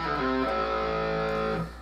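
An electric guitar plays a short triplet intro lick with a distorted tone, a quick run of notes that sustains briefly and then fades, heard alone and close.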